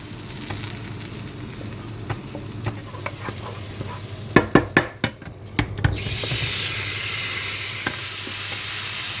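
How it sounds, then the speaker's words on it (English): Chicken breast fries in a pan for homemade fajitas, a steady sizzle broken by a burst of sharp scraping stir clacks midway before the frying hiss swells louder, no voices. "We're frying chicken chest."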